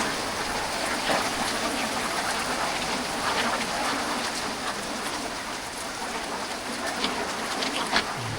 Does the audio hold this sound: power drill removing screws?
no